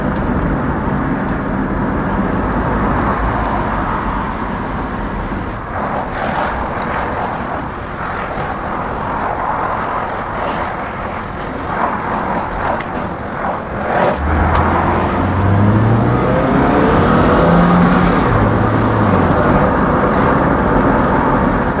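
Rover 623 with automatic gearbox and 120,000 miles driving on the road: a continuous broadband roar of engine and road noise, steady and fairly loud throughout, with a low engine tone rising in steps near the end.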